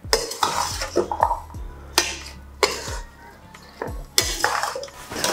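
Jackfruit curry is stirred by hand with spices and lemon juice, with repeated sharp clinks of a spoon against the pot and scraping stirs in an uneven rhythm, close and fairly loud, with no talking.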